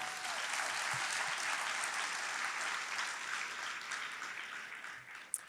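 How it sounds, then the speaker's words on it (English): Audience applause at a medical school white coat ceremony, a dense, steady wash of many hands clapping from a large crowd, holding level for several seconds and easing slightly near the end with one sharp louder clap. "Round of applause for you."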